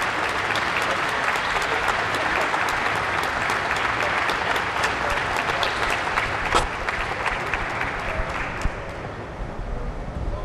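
An audience at a ribbon cutting gives the team a loud round of applause, close and dense, holding steady for about ten seconds before thinning toward the end.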